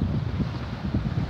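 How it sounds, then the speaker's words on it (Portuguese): Steady outdoor wind buffeting a phone microphone by the sea, a continuous low rumbling roar with gusty pulses, close and fairly loud, no voices. "Ô, vento."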